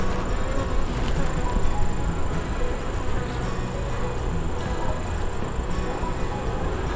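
Honey bees swarm around an open hive during a fall inspection, a dense steady buzzing close by throughout, with no gaps.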